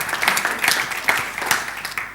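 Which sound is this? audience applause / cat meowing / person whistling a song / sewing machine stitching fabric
audience applause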